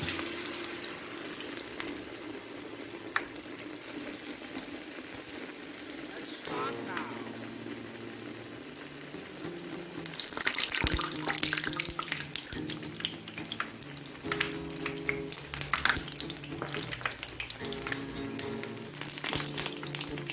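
Water runs from a tap while hands are wetted in a kitchen during Medu Vadai preparation, a faint trickle at first that grows into a louder, splashing flow in the second half, with speech over it.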